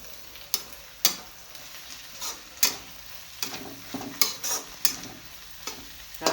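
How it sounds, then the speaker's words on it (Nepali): A spoon stirs garlic paste into browned onions in a pan for chicken curry, making about a dozen sharp scraping clacks at an uneven rhythm over a soft, steady sizzle, close and alone. "अब यसमा लसुन पेस्ट एड गर्ने हो र फेरि यसलाई चलाउने हो।"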